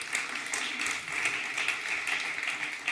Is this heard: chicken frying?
no